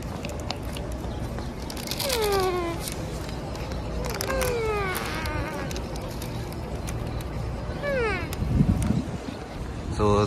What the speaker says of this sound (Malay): Ada kucing kan kat sini?